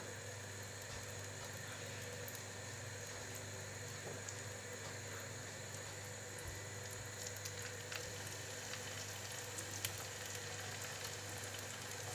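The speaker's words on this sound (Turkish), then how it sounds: "ve şimdi domates kızartmamı yapacağım arkadaşlar" Tomatoes frying in a pan of butter and vegetable oil give a faint, continuous sizzle over a steady low hum, with occasional small crackles and no talking.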